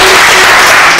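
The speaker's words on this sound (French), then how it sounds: "on applaudit très fort" Loud, saturated audience applause at a Congolese music event, a thick continuous wall of clapping with no gaps across a short burst.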